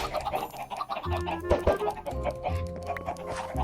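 Minecraft chickens clucking in short bursts from a hero-themed spawn placed outside, with game music and ambient tones underneath and no talking.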